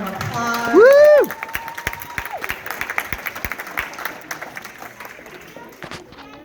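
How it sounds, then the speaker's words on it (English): A crowd at a voting-pledge event claps and cheers, with a whoop and a whistle at first, then steady scattered clapping that gradually thins out. "Let's give these folks another round of applause."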